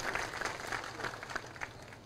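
A crowd at an election campaign rally in Kathi village, Indapur, applauds a politician in faint, somewhat distant and steady clapping with scattered louder claps.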